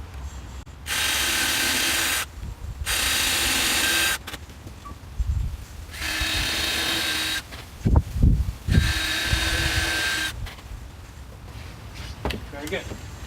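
A power drill bores holes into a wooden board for a DIY chicken coop in bursts of high whirring, roughly three runs of a few seconds each, with someone speaking and clunks of handling between them.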